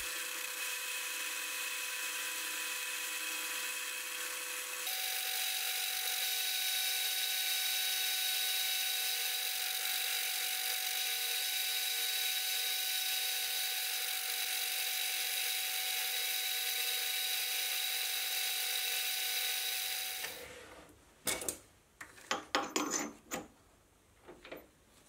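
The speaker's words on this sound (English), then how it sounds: "I'll now turn the taper. And like always, I can do it a whole lot faster if I use a drill as a power feed." A metal lathe turns a taper on a live-centre part, with a hand drill driving the power feed: a steady, loud high-pitched whine that steps up in pitch partway through, then stops into a few clunks and handling knocks.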